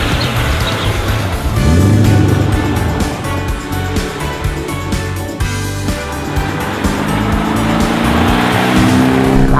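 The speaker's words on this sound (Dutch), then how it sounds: "Maar dit is gewoon vroom, een real AMG sound." A 1970 Mercedes AMG car accelerates hard on the Autobahn, its engine roaring loud and close inside the cabin, pitch climbing through the gears with a steady rushing road and wind noise beneath.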